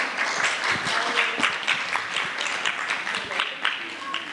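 Audience applause at a Hebrew playback theatre performance, a steady wash of many hands clapping throughout at close range, fairly loud and sustained without a break.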